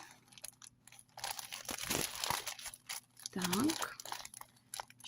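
Aluminium stove-top foil packaging crinkles and crunches in hand in short bursts, moderately close, with a voice talking over part of it.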